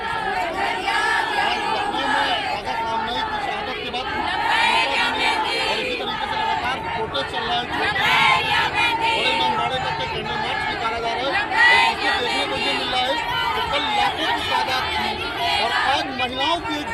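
Crowd at a candle march in Lucknow between Chhota Imambara and Bada Imambara, a dense steady babble of many voices with rising shouts and chants throughout, no single voice standing out.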